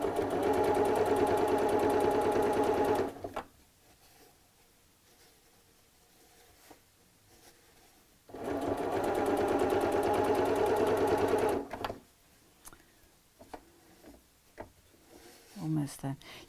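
A home sewing machine stitches a bolster cushion in two steady, fairly loud runs of a few seconds each, separated by a quiet pause filled with light handling and fabric rustles.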